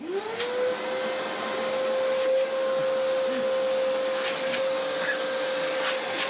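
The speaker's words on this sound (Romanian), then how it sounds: "luăm aspiratorul și pui țeava aia aici și dai drumul ăla care trage" A household vacuum cleaner runs at close range, its motor whining up to a steady, loud drone that holds for several seconds, with faint background sounds and no clear talk.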